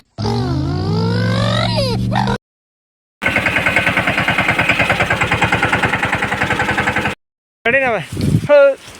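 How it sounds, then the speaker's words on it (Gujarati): A tractor engine starts and idles with a steady, loud, rapid chugging pulse lasting a few seconds, framed by cut-off bursts of tonal, wavering voice-like sounds before and after. "ટ્રેક્ટર કરી ચાલુ"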